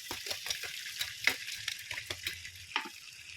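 Butter garlic crab fries in a pan, a close sizzle under quick, repeated stirring strokes that scrape and clack in an uneven rhythm.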